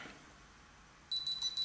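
A Hitachi HDSV01U camera gives a short, faint electronic power-on beep in a pulsing pattern after a moment of near silence.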